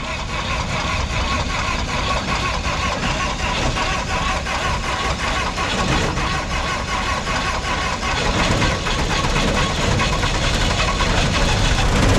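A Massey Ferguson MF 16 combine harvester engine starts and runs with a loud, steady, rough mechanical roar that holds throughout without a break.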